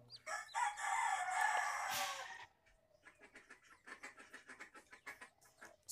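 Desi chickens with newly hatched chicks, a hen's loud drawn-out crowing call up close followed by a busy stream of quick, high peeping and chirping from the chicks.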